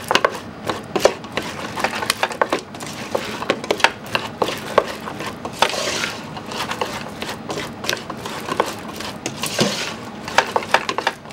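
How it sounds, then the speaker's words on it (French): Hazelnuts are stirred in sugar off the heat until the sugar crystallizes, producing a busy, close run of rattling, gritty scrapes and clicks with an irregular rhythm and no voices. "hors du feu, on mélange jusqu'à ce que les noisettes blanchissent"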